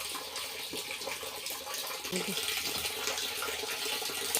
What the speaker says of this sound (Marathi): प्यायचं पाणी पण आलेलं आहे, ते डायरेक्ट टाकीत सोडतो प्यायचं पाणी